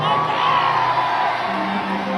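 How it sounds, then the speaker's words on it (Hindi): Large crowd at a Kolkata stage show cheering and whooping loudly, a dense roar of shouts and whistles close and sustained across the whole moment. "खोखंडा के लिए एक जोरदार हल्ला करके ताली बजाइए"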